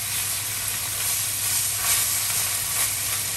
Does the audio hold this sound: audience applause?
no